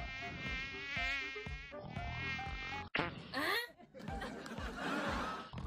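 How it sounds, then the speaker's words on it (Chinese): A mosquito buzzes in a video game as a thin, high, wavering whine that comes in stretches, mixed with other game sounds and brief chuckling. "让蚊子去咬醒他"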